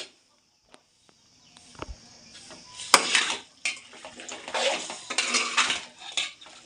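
A spoon scrapes and clatters against a pan while chicken skin curry is mixed with ginger paste, sparse at first, then a busy run of close metallic stirring clinks and knocks.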